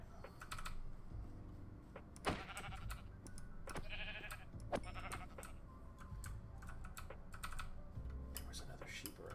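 Sheep in vanilla Minecraft bleat a few times between steady computer keyboard typing and clicks, with faint background sounds under the bleats.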